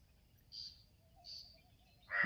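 Faint, distant crow calls: two short caws a moment apart, then a louder, harsher call at the end, over a quiet low background hum.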